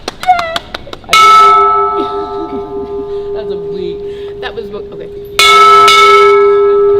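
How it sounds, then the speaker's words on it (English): A bright bell rung to mark the end of chemotherapy rings out with a long sustaining tone, then is struck again later, with brief speech in between. "I am gonna ring the bell"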